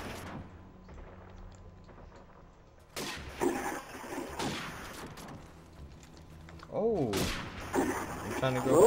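Gunfire in the video game Call of Duty 4: Modern Warfare, with bursts of shots around the middle and again near the end, mixed with other game noise and heard under players talking.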